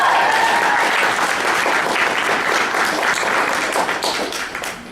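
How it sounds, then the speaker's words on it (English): A room full of audience members at a Mechacon convention panel on voice acting applauds loudly and steadily, the dense clapping holding strong before tapering off slightly at the end. "I don't know why you're clapping."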